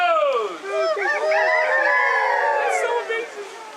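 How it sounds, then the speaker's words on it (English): A rooster gives one long, loud crow close by, a drawn-out rising and falling call lasting several seconds in a Hawaiian setting, heard on its own. "any project they undertake must be completed before the sun rises, before the first rooster crows"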